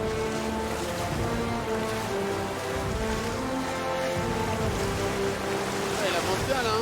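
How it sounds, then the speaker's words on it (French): A catamaran excursion on open water: a steady broadband rush of waves and wind runs loud and unbroken throughout, with people talking over it. "Avec ce confort-là, on a eu droit à une petite excursion en catamaran."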